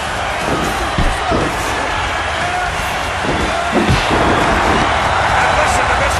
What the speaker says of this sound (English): listen to this capacity crowd coming to their feet almost